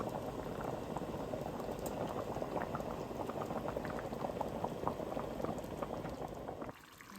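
Black beans simmering in the ham hock cooking liquid bubble at a steady roiling boil in a pot, close and continuous, then drop away abruptly near the end.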